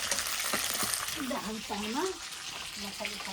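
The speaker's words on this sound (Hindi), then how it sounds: "मेरे इधर बन रही है मछली, मछली फ्राई हो रहा है खाने के लिए" Fish sizzling and frying in a pan at home, a steady hiss running throughout while a voice and other talk sound over it.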